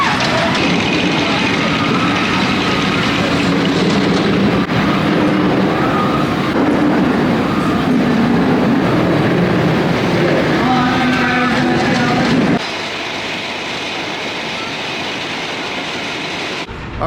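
Wind Chaser roller coaster at Kentucky Kingdom rumbling and rattling along its track, loud and continuous with shifting tones, then dropping abruptly to a quieter hum near the end.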